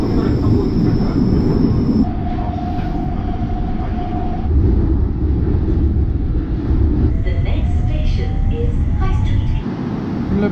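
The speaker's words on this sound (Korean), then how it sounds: "플랫폼이 짧아가지고 기차가 넘어가네." A London Underground train at Notting Hill Gate station rumbles past loudly and close, with steady wheel noise, a brief tonal whine and squealing toward the end, as voices talk faintly underneath.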